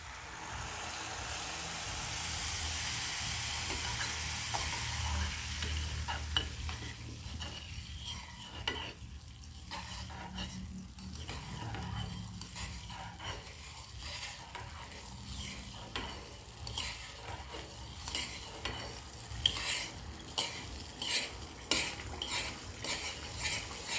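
Ghee-roasted semolina being stirred with milk in a pan for sheera, steady scraping and clinking of a spoon against the vessel under a low sizzle, growing sharper toward the end, with no talking.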